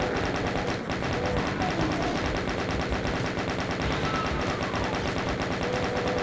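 Continuous rapid chain gun fire in the video game DOOM 2, a dense, loud, unbroken stream of shots that fills the whole stretch with no pause.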